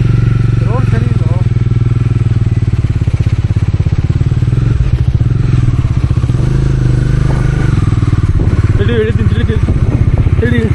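A Bajaj Dominar 400 single-cylinder motorcycle thumping steadily on a test ride after a 2000 km service, its loud close engine and road rattle running continuously while people talk over it.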